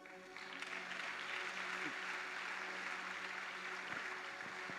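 Church congregation applauding God during a French and Haitian Creole sermon, with dense, steady clapping and murmuring crowd noise sustained throughout, moderately loud and filling the space.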